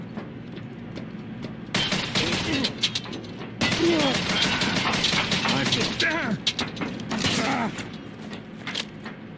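Shots in a first-person video game shooter: sharp gunfire bursts at about two and four seconds, mixed with mechanical clicks and clattering weapon handling, with voices talking partway through.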